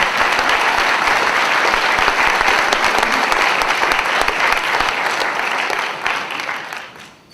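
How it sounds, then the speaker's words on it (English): A large audience at a martial arts exhibition show gives sustained, loud applause that carries evenly for about six seconds before fading out at the end. "Let's give them a big hand."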